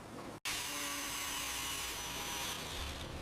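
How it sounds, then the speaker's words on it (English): Steady abrasive power sanding on a patch of a salvaged WWII submarine panel, a continuous close whirring rasp that starts after a brief cutout and runs unbroken to the end. "Keep sanding that patch."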